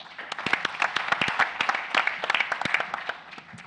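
Audience applause at a community symposium on underage drinking, a dense crowd of many hands clapping steadily and fairly close, sustained throughout with no talk.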